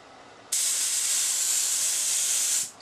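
An HVLP spray gun fed by a compressor set to 40 psi sprays a woodworking finish, producing a single loud, steady hiss that starts abruptly, holds for about two seconds and then cuts off.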